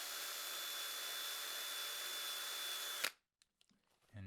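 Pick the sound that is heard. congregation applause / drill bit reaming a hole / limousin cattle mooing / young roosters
drill bit reaming a hole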